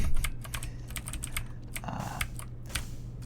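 A computer keyboard clicks in quick, irregular keystrokes close up during a Binding of Isaac playthrough, soft and crisp over a quiet low hum.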